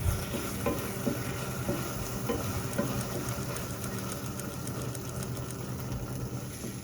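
Ají chili paste being stirred into a hot pan for papa a la huancaína, with steady sizzling and scraping of the spoon through the mixture, continuous and close.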